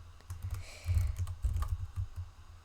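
Quiet, quick typing on a computer keyboard, a run of soft clicking keystrokes with brief pauses, close and alone.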